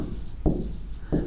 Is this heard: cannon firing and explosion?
no